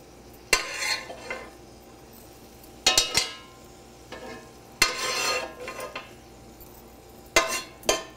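Feta, spinach and onion stuffing being mixed in a bowl with a utensil, giving a few short bursts of scraping, clinking strokes separated by quiet pauses, close and without talk.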